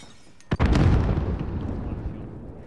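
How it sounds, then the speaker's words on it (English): A grenade detonates in the Call of Duty: Warzone video game: a sharp, loud blast followed by a long rumbling roar that slowly fades over a couple of seconds, with no talk. "Grenade out!"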